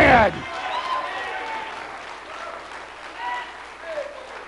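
Audience applause at a political speech: sustained clapping from a crowd at moderate level, with a voice calling out over it near the end.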